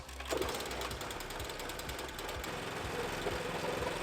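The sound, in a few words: Swardman reel mower engine starting and running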